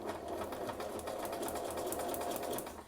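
A sewing machine stitches steadily with a fast, even mechanical chatter, running slowly while practising reverse and forward stitching, close and continuous without pause, with no talk.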